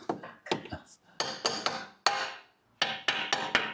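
Bolts being loosely fastened on a car's suspension control arm during a repair, a close series of sharp metallic knocks and clanks in irregular clusters, loud and with no talk.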